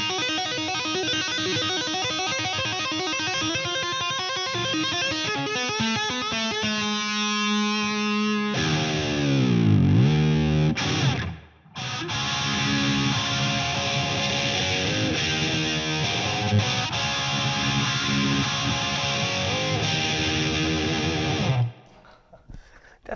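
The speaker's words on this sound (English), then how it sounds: "Doesn't that sound awful with phaser?" Distorted electric guitar with a sweeping phaser effect, playing sustained chords and runs, with a brief dropout midway before resuming loudly.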